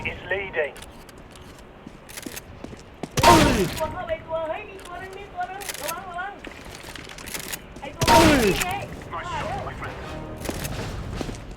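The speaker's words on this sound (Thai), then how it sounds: "เริ่มไม่มันแล้วปืนลูกซอง มันยิงระยะไกลไม่ได้" Shotgun blasts from the Nova in the game CSGO, two loud booming shots a few seconds apart, with excited talk and smaller game sounds in between.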